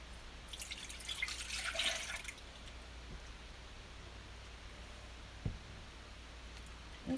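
Freshly made butter being washed in a big bowl of water: soft, steady splashing and dripping close by, with a brief brighter slosh early on and a couple of small knocks against the bowl.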